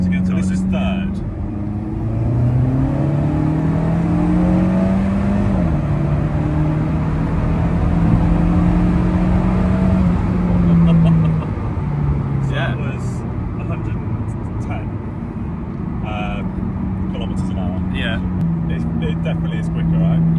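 A heavily modified Alfa Romeo 4C engine revs hard and accelerates, its pitch climbing and dropping through gear changes into third, loud and close, with brief rattles late on.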